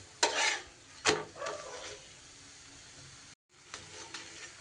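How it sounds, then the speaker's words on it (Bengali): Methi paratha frying in a pan, with crackling sizzle bursts as it is flipped and pressed, loud scrapes early and a softer continuous fry later, after a brief gap. "এপিট ওপিট করে বেশ মুচমুচে করে আমি ভেজে নিয়েছি।"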